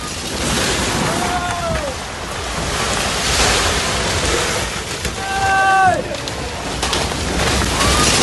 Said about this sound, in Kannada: ಭಾರೀ ಅಲೆಗಳ ಹೊಡೆತಕ್ಕೆ ಸಿಲುಕಿ ಬೋಟ್ ಮುಳುಗಡೆಯಾಗಿದೆ